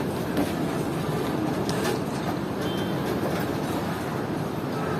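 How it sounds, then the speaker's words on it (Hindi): The Khyber Mail train starts moving from Ghotki railway station with a continuous close rumble and faint rhythmic clatter of wheels, steady throughout with no voices. "तकरीबन 7:45 बजे ट्रेन ने चलना शुरू कर दिया है घोटकी रेलवे स्टेशन से।"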